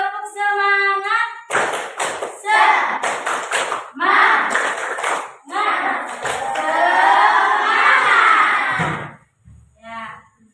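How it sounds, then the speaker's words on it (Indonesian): Children in a classroom chant loudly together while clapping in rhythm, their voices rising and breaking in short bursts between patterned claps. "Tepuk semangat."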